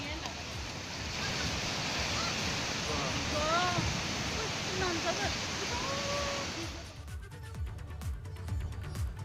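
Swollen river water roars loudly and constantly where a landslide has collapsed a road into the river, with a voice talking over the rush before the sound drops away abruptly.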